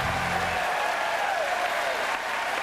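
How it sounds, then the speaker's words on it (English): Studio audience clapping on an American talk show, a brief burst of dense applause filling the room, with a low hum fading out at the start. "I'm getting a lot of claps here."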